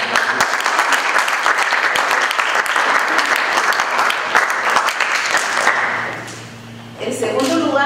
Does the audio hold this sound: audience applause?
yes